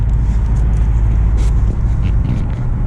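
A 2007 Chevy Impala SS driving along, a loud, steady low engine and road rumble heard from inside the car, with no talk over it.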